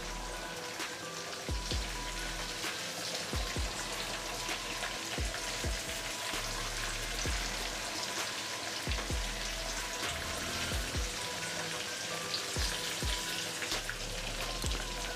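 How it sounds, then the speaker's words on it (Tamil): Chicken 65 pieces deep frying in hot oil, a dense steady crackle and hiss with scattered sharp pops and bubbling bursts throughout, close and fairly loud with no voices. "கொஞ்ச நேரம் நல்லா ஃப்ரை ஆகட்டும்."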